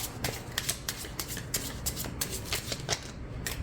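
An oracle card deck being riffle-shuffled close up, repeated crisp fluttering bursts with short pauses between them, no voices.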